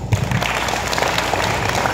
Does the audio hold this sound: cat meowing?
no